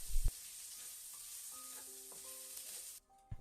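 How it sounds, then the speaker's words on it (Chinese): Chopped scallion, ginger and garlic are stir-fried with fermented black beans and minced pork, giving a steady close sizzle with a brief clatter of the spatula at the start before the sizzle cuts out near the end. "加入葱姜蒜末，翻炒出香味儿。"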